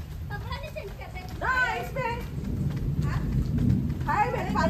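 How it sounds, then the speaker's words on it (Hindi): Thunder rumbling through steady rain, a low rolling boom that swells midway beneath a constant wash of rainfall while people talk close by. "बादल की आवाज़ देखो, माय गॉड।"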